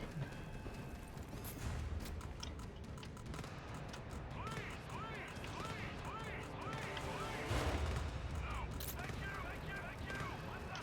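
Turret gunfire rattles in bursts inside the GTFO game, mixed with mechanical clanks and crashes under ongoing player chatter, fairly distant and muffled rather than sharp.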